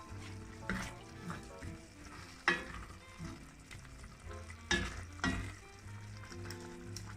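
Quiet stirring of a tuna pasta sauce with oregano in a frying pan, soft sizzling under a few sharper scrapes and clinks of the utensil against the pan.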